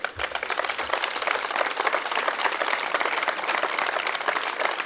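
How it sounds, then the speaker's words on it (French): Audience at a political gathering applauding a woman being introduced, a full, even round of clapping from many hands sustained throughout. "que je vous demande d'applaudir"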